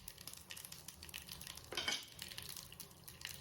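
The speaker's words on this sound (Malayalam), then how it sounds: "അതിലേക്ക് കുറച്ച് ഓയിൽ ഒഴിച്ചിട്ട് നമുക്ക് കടുക് പൊട്ടിച്ചെടുക്കാം" Mustard seeds spluttering in hot oil in a pan, a steady crackling sizzle with a louder flurry of pops midway, no voices.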